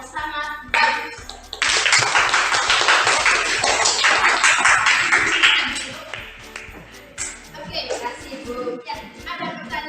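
Classroom applause for a student group that has just presented, loud many-handed clapping that swells and then fades while voices carry on over and around it.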